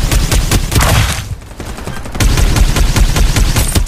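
Rapid automatic gunfire in the shooter game Farlight 84, dense bursts of loud close shots that pause briefly midway and then resume in continuous rattling volleys.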